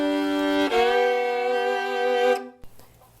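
A hen in a chicken coop gives a loud, drawn-out, tonal squawk after laying an egg. The call rises sharply, holds for about two seconds, then cuts off, followed by faint coop noise.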